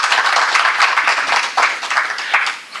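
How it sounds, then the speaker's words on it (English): Audience applause at a lecture on India's place in the emerging world order, a dense, steady wash of many hands clapping at once, fairly loud, with no talk over it for nearly three seconds. "That I think the author deserves a good clap."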